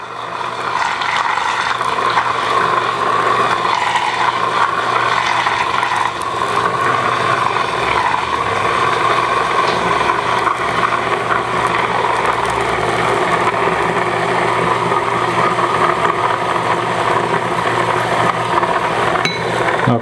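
A Presto Dorothy rapid cold brewer runs its motor at a steady, loud whir with a mechanical hum as it spins coffee grounds and water. The sound holds constant throughout with no speech.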